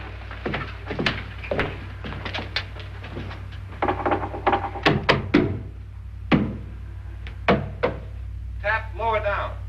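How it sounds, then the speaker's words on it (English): Knocks on a wall during a spooky Halloween show, a series of sharp raps in uneven groups, some quick doubles and triples, close and fairly loud, with voices talking between them. "Now I'm gonna knock on the other wall."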